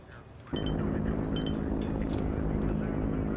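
A transport plane sits at Mactan Air Base, its engine or propeller drone starting abruptly and continuing as a loud, steady roar with wind buffeting.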